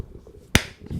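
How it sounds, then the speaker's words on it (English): One sharp, close hand clap from a man in a podcast studio, sudden and loud against a quiet room with faint background murmur. "Zach, can you clap?"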